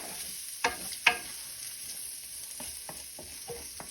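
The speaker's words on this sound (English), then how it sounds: "And we'll just stir this up a bit to build some flavor." Sichuan pork mixture with powdered ginger sizzles steadily in a pan, with a few sharp scrapes and taps of a utensil stirring it, close and fairly quiet, no talking.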